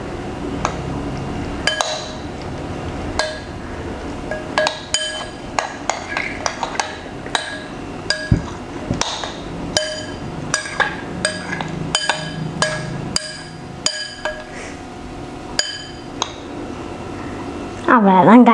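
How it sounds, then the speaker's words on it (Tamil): Snack ingredients being mixed in a bowl, a steady run of sharp clinks and taps of a utensil against the bowl, close and fairly loud, repeating irregularly throughout with a brief clatter at the very end. "இப்போ நம்ம வந்து இது எல்லாத்தையும் மிக்ஸ் பண்ணிடுவோம் இந்த பவுலில்."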